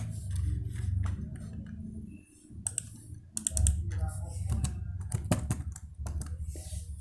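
Keys clatter on a computer keyboard as a search term is typed into a search field, bursts of quick clicks over a low room hum, fairly close and moderately quiet.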